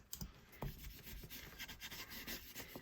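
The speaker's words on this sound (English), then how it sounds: "Right, let's burnish that down." Rubbing and rasping as embossed card coated with gilding wax is burnished by hand, a continuous scratchy friction sound with small bumps, close and fairly quiet.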